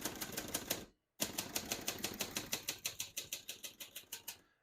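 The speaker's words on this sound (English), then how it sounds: "We're going to keep that on single for now and finish typing." Rapid clacking keystrokes from a 1962 Hermes Media 3 manual portable typewriter, a brief pause, then a steady run of crisp strikes that gradually thin and soften toward the end.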